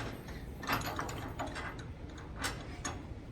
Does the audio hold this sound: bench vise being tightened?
yes